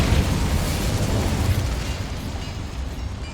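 The Incendio fire spell in Hogwarts Legacy erupts in a loud, sustained fiery rush and roar that fades slowly over a few seconds, heard on its own.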